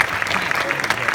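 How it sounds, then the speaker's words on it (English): A short burst of crowd applause in a cinema at a documentary premiere Q&A, brisk and fairly loud throughout. "Let's give a great round of applause"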